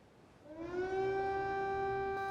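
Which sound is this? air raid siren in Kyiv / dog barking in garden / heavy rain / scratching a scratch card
air raid siren in Kyiv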